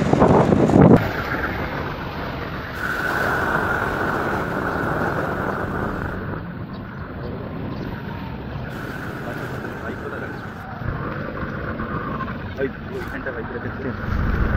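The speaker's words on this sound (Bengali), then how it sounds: "খুবই হাওয়া, খুবই হাওয়া।" Strong wind blows steadily in a loud, low rumble against the microphone for the whole stretch, with people talking now and then underneath.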